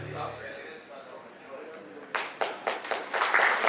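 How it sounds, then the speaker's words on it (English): Applause from a conference audience at a Rwanda investment event breaks out partway through, a burst of clapping rising in several loud swells after a stretch of quieter room sound. "Big round of applause, everybody."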